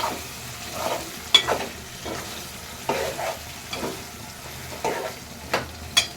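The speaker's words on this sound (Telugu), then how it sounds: "ఇప్పుడు నేను పాలకూర వేసుకుంటున్నాను" Spinach goes into a simmering chicken curry in a pan, producing a soft sizzle broken by repeated scraping stirs at an uneven rhythm, close and fairly quiet with no talking.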